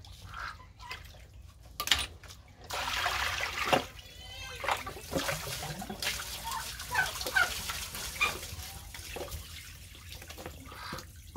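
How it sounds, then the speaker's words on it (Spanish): Tap water runs from a faucet in a home kitchen while a meal is being prepared, a steady splashing trickle that lasts throughout at moderate level, with a voice briefly audible over it. "Solo encender la agua."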